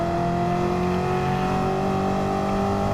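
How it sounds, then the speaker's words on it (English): A 1971 De Tomaso Pantera engine in a racing game, a loud steady drone that holds its pitch while running hard through the gears, close and continuous. "shifting through the gears here, trying to maintain as much speed as possible without going off the track"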